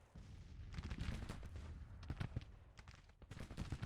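Napoleon cannons fire in the Grand Tactician Civil War battle game as a faint, distant rolling barrage, with repeated booms and cracks overlapping against a steady battlefield rumble.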